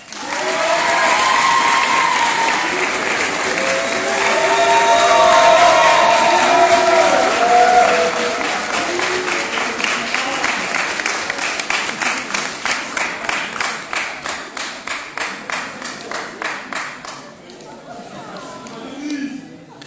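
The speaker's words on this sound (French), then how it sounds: "veuillez faire un tonnerre d'applaudissements au prochain, Monsieur Denis Chenikov" A theatre audience at a student debating and eloquence contest in Évry bursts into loud, sustained applause and cheering, the clapping thinning into distinct rhythmic claps before fading out, with voices mixed in.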